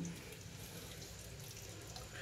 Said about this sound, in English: we just flushed and the water is filling up nicely